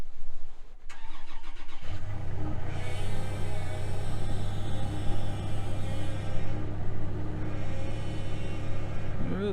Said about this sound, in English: that should remote start the truck